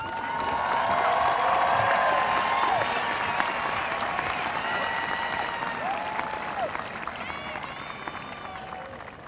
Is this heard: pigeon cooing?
no